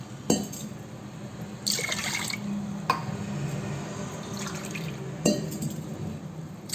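Water poured from a glass over washed lentils for a red chilli dal curry: several short, close splashing pours with faint glass clinks between them, with no talking.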